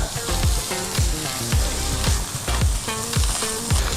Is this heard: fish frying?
yes